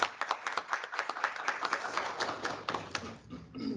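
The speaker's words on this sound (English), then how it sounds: "Please give a round of applause." A seminar audience applauds after a CEO's closing words, a modest room of clapping with distinct individual claps audible, fairly faint, tapering off toward the end.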